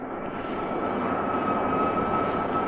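Steady roaring jet engine noise at full throttle, a dense continuous rumble with a faint high whine, loud and unchanging throughout.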